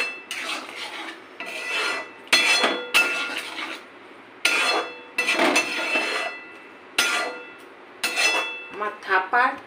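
Spatula scraping and clinking against a pan while egg tarka with ghee is mixed, in repeated rasping strokes with short pauses between them.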